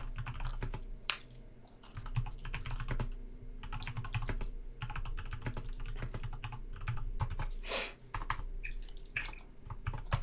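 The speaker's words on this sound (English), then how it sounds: "you guys are going to have to deal with typing noise" Computer keyboard typing in a rapid, uneven stream of clicks and clacks, close to the microphone, with short pauses between bursts of keystrokes and a faint low hum beneath, no speech.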